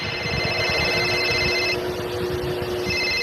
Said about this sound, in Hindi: फोन बज पड़ा